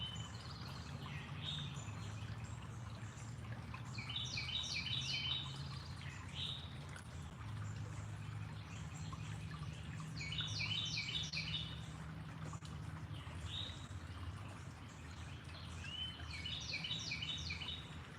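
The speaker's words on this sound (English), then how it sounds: "That's about 4 different bird sounds I hear." Several different birds call outdoors, repeated bursts of chirps and short trills at moderate distance over a low steady rumble of background noise, with no talking.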